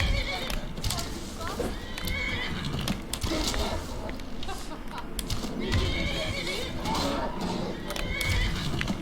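A horse neighs and whinnies with clip-clop hooves during a bandit attack in the video game Skyrim, amid busy combat noise and a speaking voice.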